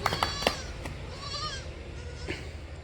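A young crossbreed male goat kid bleats several times in short, high cries, close by, with light background noise between calls.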